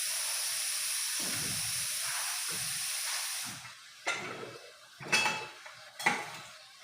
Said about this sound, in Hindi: अभी इसका ढक्कन खोलते हैं।